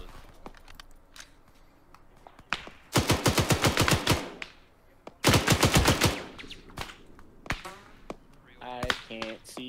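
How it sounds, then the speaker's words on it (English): Machine gun fire in the ARMA 3 military video game, two long rapid bursts of loud shots separated by scattered single cracks, with no one talking. "3-1 covering fire now."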